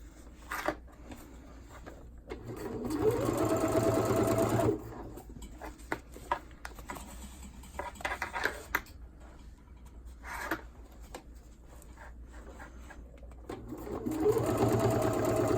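A sewing machine top-stitches around a Happy Hippos Flex Fit cloth diaper. Two close bursts of fast, rhythmic stitching run for a couple of seconds each, and between them there are quiet stretches of fabric rustling and small handling taps.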